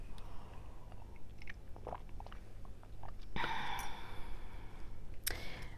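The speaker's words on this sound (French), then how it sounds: "je vais prendre une gorgée." Quiet mouth sounds of someone sipping a drink: small lip clicks and slurps, followed by a swallow and a soft exhale.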